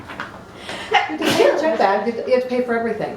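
A single sharp sneeze bursts out mid-conversation, loud and close, with people talking before and after it.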